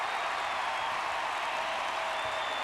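A baseball stadium crowd at a 1993 Chicago Cubs vs Atlanta Braves MLB game cheers after a base hit, a steady, distant wash of roaring voices and applause with no break.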